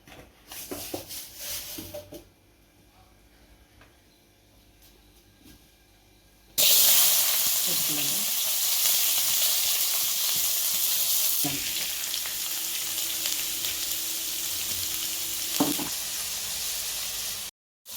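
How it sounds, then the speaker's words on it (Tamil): Mustard seeds hit hot oil in a Tamil home kitchen making a drumstick-flower egg stir-fry. A loud, steady sizzle bursts in abruptly after a quieter start, with occasional stirring sounds. "கடுகு ஒரு நம்ம போட்டுக்கலாம்."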